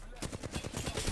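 Rapid automatic gunfire in Apex Legends, a fast string of sharp shots in quick rhythm, fairly faint and continuous.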